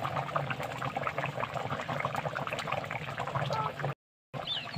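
Curry simmering in a pan after roasted spice powder is stirred in, a steady close bubbling and gurgling that runs continuously, broken by a brief silent gap near the end.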